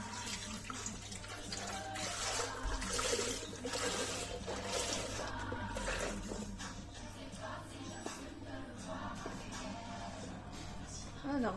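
One litre of milk poured for a béchamel sauce, a steady liquid stream running for several seconds in a kitchen, with a low background hum and a faint voice.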